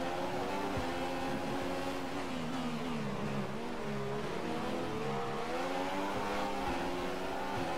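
Formula 1 cars racing around the Monaco street circuit in the F1 2015 video game, engines screaming and shifting pitch continuously as they accelerate and brake, loud and sustained throughout with no speech.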